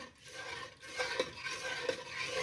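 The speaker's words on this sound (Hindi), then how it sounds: "और अब मैं इसमें डालूँगी 2 खाने के चम्मच अर्क के गुलाब, अच्छी तरह मिक्स करेंगे।" A spoon stirs rose water into a cooled almond and milk drink, with soft repeated clinks and swirling scrapes against the vessel, close and steady.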